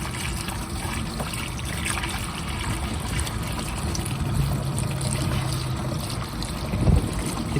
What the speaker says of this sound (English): Right, let's put some fuel in this.